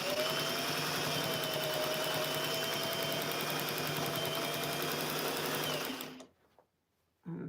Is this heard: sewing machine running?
yes